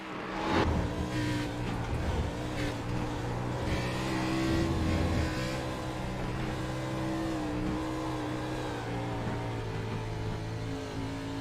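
A diecast race car accelerating on a racing league track, with rising and falling engine-like whine harmonics that sweep up as it speeds along, moderately loud and alone without talk.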